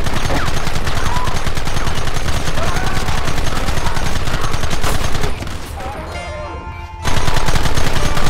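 Dense gunfire in the Western video game Red Dead Redemption, loud continuous rapid shots layered over one another, briefly thinning before resuming at full intensity.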